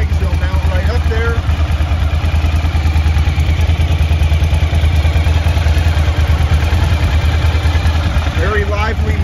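A 2006 Suzuki V-Strom DL1000 motorcycle engine runs steadily close by, a loud even thrum that carries on without a break, with a little speech over it.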